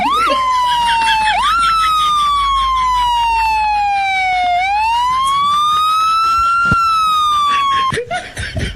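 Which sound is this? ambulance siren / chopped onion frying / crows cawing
ambulance siren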